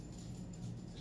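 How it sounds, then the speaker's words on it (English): A dog at home barks and whimpers in a quick, faint burst, low and muffled in a quiet room with no one talking. "What you barking for?"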